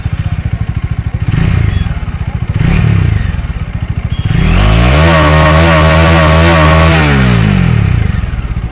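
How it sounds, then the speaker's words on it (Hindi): Bajaj Dominar 400 motorcycle exhaust revving loudly and close, with a few sharp throttle blips rising to a long sustained high-rev roar that drops back to idle, steady engine rumble throughout. "चेक करो यार, डोमिनोज 400 का एग्जॉस्ट साउंड"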